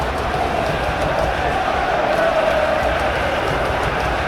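Football stadium crowd in the PES 2021 video game keeps up a steady, dense roar and murmur throughout, loud and unbroken, with faint commentary in the background.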